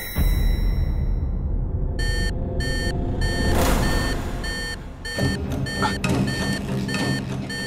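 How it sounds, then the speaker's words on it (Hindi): An electronic alarm beeps loudly in short repeated bursts, with brief pauses between groups of high, piercing tones and no voices over it. "ये अलार्म भी मैं रोज बंद करना भूल जाता हूं।"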